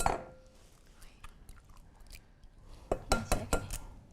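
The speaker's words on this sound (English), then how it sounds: "how about we crack all of our eggs into the bowl?" Eggs being cracked into a bowl for breakfast burritos in a home kitchen give a quick cluster of sharp taps and clicks near the end, following quieter rustling and faint handling noise.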